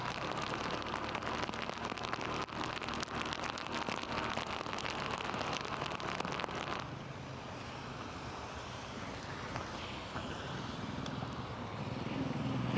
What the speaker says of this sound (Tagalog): Kala ko tigil na ang ulan dito,